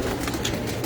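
A pigeon kept by a rooftop pigeon fancier gives a brief, soft coo, close by and heard alone.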